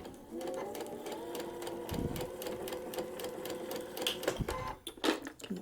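A sewing machine stitches a paper-pieced quilt block in a continuous rapid, even whirr, with a few brief clicks and handling bumps toward the end, close and clear.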